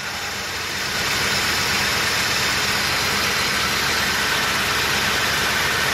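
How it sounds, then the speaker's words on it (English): Old truck with a stock exhaust idling after a cold start, a close, steady mid-range engine drone with a faint rhythmic chug; the level rises slightly after the first second and then holds even, with no speech. "Idle probably seems kind of high, but again, it's a cold start."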